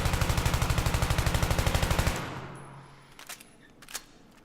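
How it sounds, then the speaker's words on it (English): An M4A1 rifle in Battlefield 3 fires a rapid, steady full-auto burst at a wall for about two seconds, then stops, leaving a fading echo and a couple of faint clicks. "So I'm going to shoot up against this wall without controlling the recoil"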